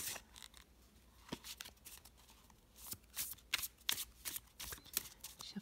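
A deck of Symbolon cards is shuffled by hand close up, quiet riffling and sliding bursts with soft slaps as the cards settle, uneven and in separate clusters, no speech.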